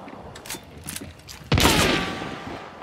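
Gunfire in the game Hunt: Showdown, a few soft distant shots followed by one loud close blast that rings out and slowly fades.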